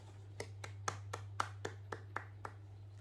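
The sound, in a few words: applause from the class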